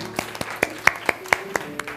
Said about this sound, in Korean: 하나님께 영광의 박수하고요